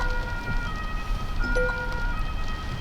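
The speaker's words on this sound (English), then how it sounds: "there's an emergency vehicle coming with the sirens." An emergency vehicle siren wails steadily at moderate volume over road noise, heard from inside a moving 2021 Mercedes S-Class, with no talking.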